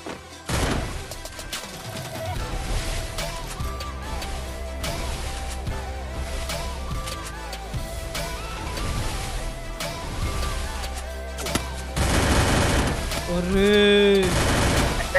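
Bombs burst and guns fire nonstop in an online video game, a dense, loud barrage of blasts and rapid shots, while a voice talks over the action.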